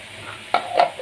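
Ginger garlic paste hits a pan for a paneer curry, giving a short, close burst of sizzling with a couple of quick stirring scrapes.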